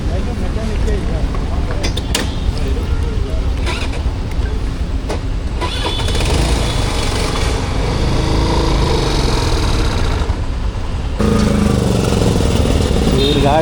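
A Honda Activa scooter with a seized engine runs loudly and continuously up close, a rough steady drone that shifts character midway, with people talking over it.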